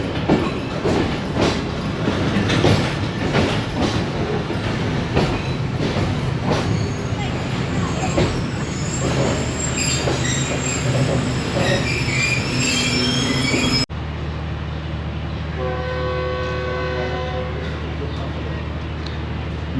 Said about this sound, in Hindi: फ़ाइनल डिपार्चर विसल हो गया वज़ीराबाद जंक्शन से रेल कार का, और आहिस्ता आहिस्ता प्लेटफॉर्म नंबर 3 से मूव हो रही है